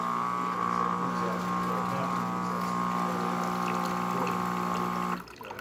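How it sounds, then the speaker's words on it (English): A machine's rinse cycle during a full service and inspection, with a steady pumping hum and water flow running loud and continuous for about five seconds before stopping abruptly near the end. "We're doing the rinse cycle now."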